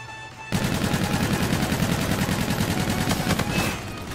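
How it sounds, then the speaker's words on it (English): Sustained automatic gunfire in Call of Duty: Infinite Warfare, a dense rapid rattle of shots starting abruptly after a brief lull and continuing steadily, loud and close, with no talking. "I'm shooting right at them"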